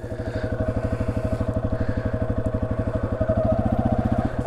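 A Yamaha XT250 motorcycle descending a steep, loose, rocky hill, its single-cylinder engine thumping in a steady, close, low rhythm with faint clatter from the rough ground, and no talking.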